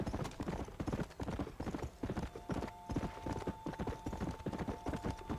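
Horse hooves clip-clop in Red Dead Redemption, a steady, fast galloping rhythm that stays close and loud for the whole stretch, with a brief whinny-like tone in the middle.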